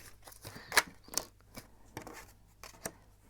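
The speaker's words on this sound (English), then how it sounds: "So I'm gonna shuffle some cards and see some more cards" Tarot cards shuffled by hand, giving a few sharp riffling bursts and soft slaps, close and fairly quiet, with no talking.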